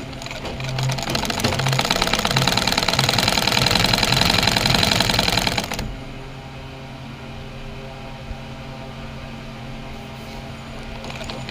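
Sewing machine stitching a kameez and ladies' pant design runs in a loud, fast steady whir for about six seconds, then stops, leaving quiet room hum and a faint click.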